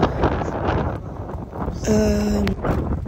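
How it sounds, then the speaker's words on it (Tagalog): Wind gusts across a bayside park in Toyama, a steady low rumble buffeting the microphone throughout, with a brief tonal whistle partway through. "See, it's really windy and there's no people around."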